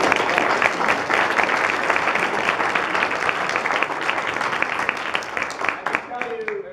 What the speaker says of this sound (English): let's just give a round of applause for, in particular, Ben and Jana,